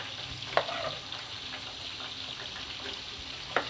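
Chopped onions fry in hot oil in a pan for kofta masala, giving a soft, steady sizzle at low level, broken by a couple of sharp clicks or taps from a utensil.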